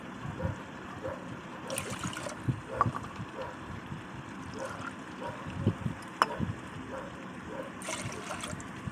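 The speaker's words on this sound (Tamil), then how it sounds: "தேவையான அளவு தண்ணி ஊற்றிக்கலாம்" Water is poured into a pot of millet and lentils for pongal. The faint trickling and splashing is quiet and close, with a few soft clinks of the pot.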